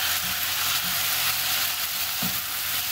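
Chopped capsicum frying in a hot pan gives a constant loud sizzling hiss, with a couple of soft knocks from stirring.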